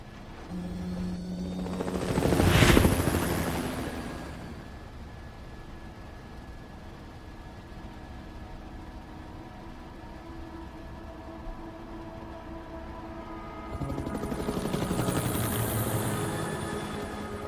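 A helicopter's rotor roar in the video game Resident Evil 4 (2023) swells and passes around the start, settles into a low steady hum, then rises again near the end.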